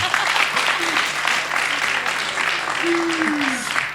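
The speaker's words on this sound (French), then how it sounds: "Applaudissements, s'il vous plaît." Applause from an outdoor radio show audience, a dense steady patter of many hands filling the whole stretch at moderate loudness, with a brief tonal whistle-like sweep riding over it near the end.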